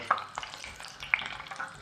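Vegetable samosa food crackles and sizzles in a hot pan, with occasional light clicks and scrapes of stirring, close and steady.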